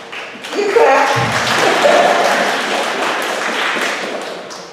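An audience claps at a River Terrace Education Campus school event, steady applause from many hands holding for several seconds under faint voices and crowd murmur.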